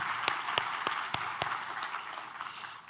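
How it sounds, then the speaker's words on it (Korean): A church congregation applauding in worship, a scattered patter of clapping with a handful of distinct loud claps close by at the start, gradually thinning and fading toward the end. "하나님께 감사와 영광의 박수를 드리겠습니다"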